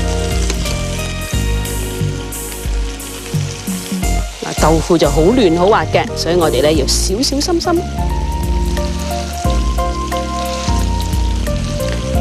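Fish-stuffed tofu sizzles and crackles as it pan-fries in hot oil, a loud continuous frying hiss with bursts of spattering while a person talks over it throughout.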